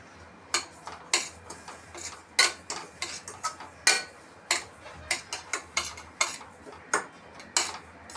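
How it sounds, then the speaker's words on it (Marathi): Semolina (rava) dry-roasting in hot oil in a pan over low heat for upma, stirred with a spoon that scrapes and taps the pan in a steady run of close, sharp clicks over a faint background hiss, with no voices. "स्लो गॅसवर मी रवा आपला छानपैकी भाजून घेणार आहे"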